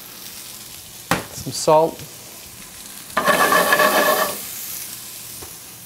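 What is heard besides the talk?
onion frying with potatoes in oil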